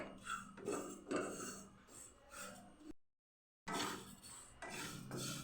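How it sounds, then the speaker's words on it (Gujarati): Cumin seeds roasting in a pan over a very low gas flame for homemade chaat masala, heard as steady close scraping and rattling of seeds against the metal, broken by one short silent gap. "ગેસ આપણો સાવ ધીમો છે અને જીરુંને આપણે શેકીએ છીએ"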